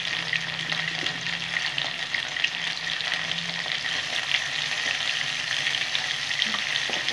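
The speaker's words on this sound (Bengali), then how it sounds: "একটু নুন আর একটু হলুদ দিয়ে আমি কফিগুলো ভেজে নেব।" Kofta balls fry in hot oil, seasoned with salt and turmeric. A continuous, even sizzle crackles throughout, with faint stirring noises and no voices.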